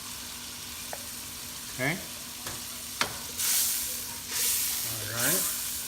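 Soy sauce hitting melted butter in a pan, giving soft hissing sizzle bursts between light clinks and scrapes of a utensil, with a brief spoken word from the cook.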